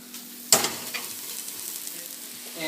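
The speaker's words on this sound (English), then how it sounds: "This big, delicious, veggie-filled stir fry." A vegetable stir fry sizzles in a pan with a steady, soft frying hiss, marked by a sharp clatter near the start and a few lighter scrapes, with no voices.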